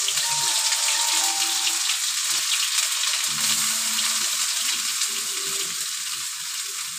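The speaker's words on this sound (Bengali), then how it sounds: "এবার আমি এর মধ্যে বেটে নেওয়া আমার আদা, রসুন, লঙ্কা, পেঁয়াজ বাটাটা দিয়ে দেবো" Ginger, garlic, chili and onion paste fries in hot oil, giving a loud, steady hiss and crackle that runs without a break, with a few faint clinks of utensils underneath.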